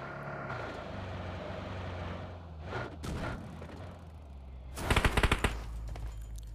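PUBG Mobile gunfire: after a low, rumbling stretch with a couple of muffled thuds, a rapid burst of automatic shots rattles out near the end, fairly distant and quiet overall.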